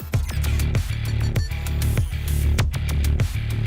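Drums and bass from a game soundtrack play back on their own, with punchy kicks and snare hits over a deep, sustained bassline in a steady groove.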